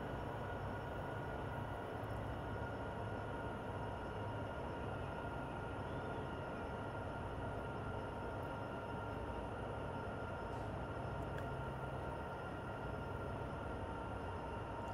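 Train locomotive driving in Train Simulator 2022, a steady, loud, dense rumble of engine and rolling wheels that holds evenly throughout, with no talk.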